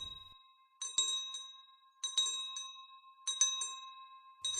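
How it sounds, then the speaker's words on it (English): A bright town bell rings in three spaced strokes, each clear metallic tone ringing out and fading into quiet before the next. "A bell was heard ringing from the town."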